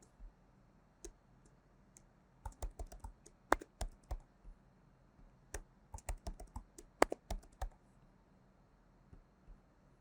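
Keys on a computer keyboard tapped while entering a password during an online registration form, irregular bursts of crisp clicks in clusters with short pauses, close and alone with no talking.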